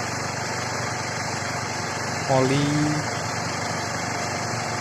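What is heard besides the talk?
automatic scooter engine idling while warming up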